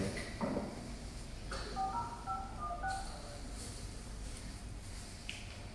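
A telephone number dialed by keypad, a quick run of short tones clustered in the middle, fairly faint over a quiet room background.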